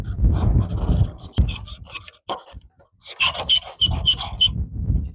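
Magnesium is scraped off a ferrocerium rod for firecraft, giving bursts of dry rasping strokes, close and irregular, with short pauses between them.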